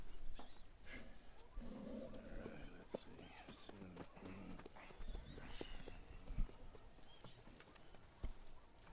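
Horse hooves clip-clop in Red Dead Redemption 2 while a horse is bought from a dealer, with a brief whinny, heard close and steady beneath speaking voices.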